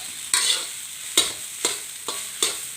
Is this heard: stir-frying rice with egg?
yes